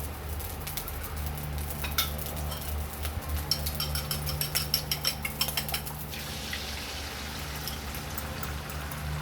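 Egg frying in plenty of cooking oil in a home pan, a steady close sizzle with scattered crackles and clinks of utensils against the pan, no talking.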